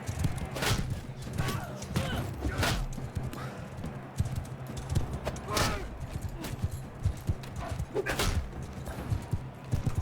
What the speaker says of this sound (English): And I'm on a horse.